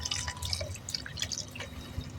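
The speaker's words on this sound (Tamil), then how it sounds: "கொதிக்கிற மாதிரி கொஞ்சம் தண்ணி ஊற்றிக்கணும்." A little water is poured into a pan of egg curry with ground tomato and spices, producing faint, quiet splashing and dripping with scattered small liquid plinks.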